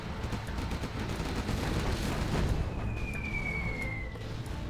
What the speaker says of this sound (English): Here comes the carpet bomb there.